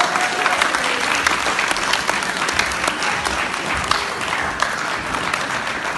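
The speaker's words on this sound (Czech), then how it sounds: "A ještě jednou bychom jim mohli zatleskat." Sustained audience applause for a newlywed couple at a live Ostrava band performance, dense and steady throughout with a few louder claps standing out and no talk.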